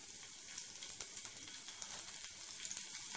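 Garlic sizzles in about two spoons of hot oil in a pan, a steady soft crackle with scattered tiny pops, quiet and close with no voices.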